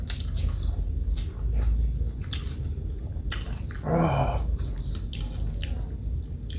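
Close, steady chewing of Isan-style steamed fish, with soft wet squishing and smacking bites continuing throughout and a brief fuller burst midway; no talking.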